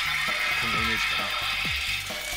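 A Kamen Rider Build DX Drill Crusher toy has its drill blade turned, giving a run of ratcheting plastic clicks and gear-like ticks close by, with a voice faintly heard alongside.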